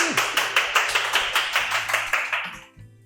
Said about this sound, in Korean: 우리 이영재 신부님 큰 박수로 맞이해 주시기 바랍니다.